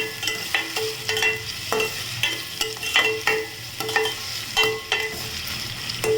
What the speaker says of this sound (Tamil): வெங்காயத்தை சேர்த்து நல்லா வதக்கிக்கலாம்